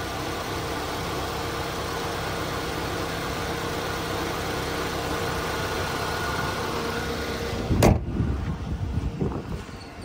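A 2008 Hyundai Elantra's 2.0 liter four-cylinder with an automatic idles steadily under the open hood, a constant low hum, interrupted near the end by a sharp knock and some rustling.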